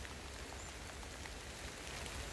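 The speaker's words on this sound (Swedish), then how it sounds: "Det regnar just nu. Det regnar." Steady rain on an overcast day, heard as a faint, continuous hiss and patter with no breaks and no voices.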